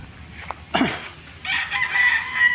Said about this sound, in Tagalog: yan yung mga panabong yan